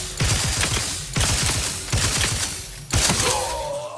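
Heavy gunfire in The Outer Worlds 2, with four loud, close bursts of rapid shots, each followed by a mechanical rattle and ringing decay.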